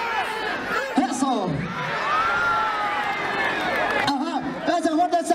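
A fight-event crowd at a Takanakuy gathering in Peru breaks into loud, sustained cheering and clapping, with shouts and whoops rising over an announcer's voice before the noise drops back to speech.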